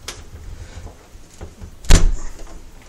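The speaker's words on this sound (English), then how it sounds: "Mark that as opening the door." A house door bangs with a sharp knock near the end as it is opened, preceded by a few quieter clicks and rustles of handling.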